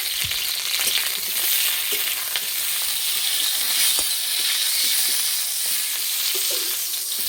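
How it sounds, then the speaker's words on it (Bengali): Tomatoes frying in oil in a wok give a loud, continuous crackling sizzle with scattered small pops and faint stirring scrapes, heard alone with no voices. "কড়াই দেব তেল, টমেটোগুলো ভেজে নেব।"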